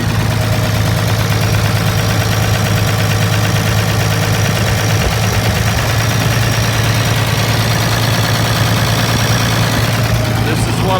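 A Caterpillar 966 wheel loader's diesel engine idles steadily and loudly throughout, a constant low rumble with mechanical clatter and vibration, and no other sounds.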